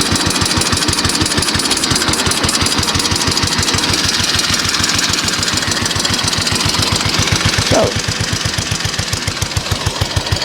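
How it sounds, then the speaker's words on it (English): A 1915 Harley-Davidson 11c single-cylinder F-head engine, intake over exhaust, runs at a steady loping idle, each firing pulse distinct and evenly spaced, loud and close throughout with a brief word spoken near the start. "we have the F-head engine, the intake over exhaust, with the push rod actuating the inlet valve."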